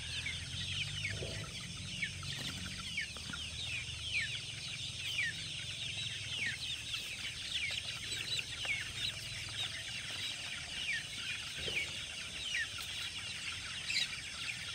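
Many chickens cluck and chatter together in a steady flock din at 6 a.m. in cold weather, with a constant hum of ambient noise underneath.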